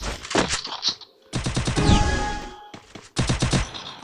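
Rapid bursts of gunfire from a shooting video game, loud and close, with several clusters of shots separated by short pauses.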